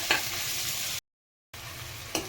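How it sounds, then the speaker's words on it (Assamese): Chopped onions sizzle steadily in a hot pan while being stirred, a continuous close frying hiss with scraping stirs, broken by a brief silent gap. "পিঁয়াজখিনি মই এনেদৰে অলপ দেৰি ভাজি লওঁ"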